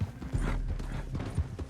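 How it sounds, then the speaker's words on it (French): Horse hooves clip-clop in Red Dead Redemption 2, a run of quick, uneven thuds at moderate volume, close by, with no talk over them. "Mais mon cheval, il va à 3 à l'heure comparé aux leurs."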